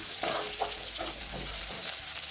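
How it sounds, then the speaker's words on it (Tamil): Onions and garlic fry in a pan with a continuous, close hiss and sizzle, broken by a few soft stirring scrapes. "ஆனியன் பார்த்தீங்களா நல்லா வெந்து வருது."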